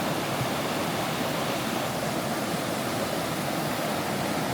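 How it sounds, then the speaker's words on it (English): A waterfall pours down beside a riverside dining table, a loud, steady, unbroken rush of falling water filling the whole scene with no other sounds standing out. "You can see behind Shum, the water's coming down."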